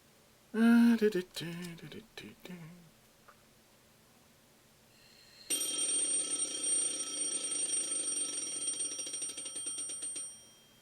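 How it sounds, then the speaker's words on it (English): An alarm clock in a visual novel game rings with a continuous shrill metallic jangle that starts abruptly partway through and holds loud for several seconds before cutting off, preceded by a brief musical chime. "The alarm clock is making a terrible racket."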